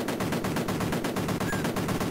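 Rapid, evenly spaced bursts of gunfire from the Amiga video game Cannon Fodder, set in an Antarctic snow level, rattle on loud and continuous without any talking.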